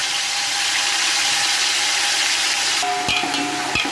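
Beef and boiled garlic sizzle and fry in a hot pot with a continuous hiss, joined near the end by a few metallic scrapes of stirring.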